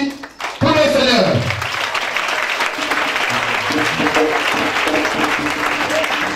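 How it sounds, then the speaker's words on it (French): A congregation breaks into loud, sustained applause and acclamation for the Lord at a worship gathering. After a brief quiet start the clapping swells and holds steady, mixed with crowd voices. "Acclamation nourrie pour le Seigneur"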